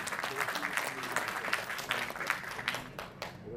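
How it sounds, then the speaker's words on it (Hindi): An audience at a Uttarakhand Uttarayani Samiti stage event claps in a lively burst of distinct, fairly close hand claps. The clapping runs for several seconds, with some talk in the background, then tapers off. "जोरदार तालियां।"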